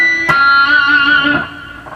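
Slow electric guitar solo phrase, played through a Line6 Helix with heavy pinch harmonics. A picked attack gives way to bright, squealing sustained notes that slide and fade, with no talking.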